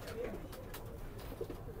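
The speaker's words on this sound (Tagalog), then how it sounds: "Ngayon, lalaki na ng mga ibon to, lo." Racing pigeons coo softly in short, low calls at close range against a steady background murmur.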